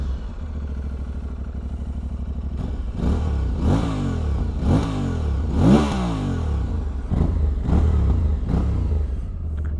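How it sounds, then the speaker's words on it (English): An Aprilia Tuareg 660 motorcycle on its stock exhaust, idling and then revved in several sharp, rising blips, close and fairly loud, settling back to idle. "Let's do an exhaust sound. See how the stock exhaust sounds."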